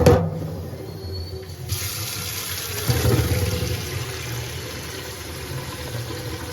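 Water runs and splashes while rice grains are rinsed for kheer made with date palm jaggery, a steady wash of flowing water with a brief surge partway through.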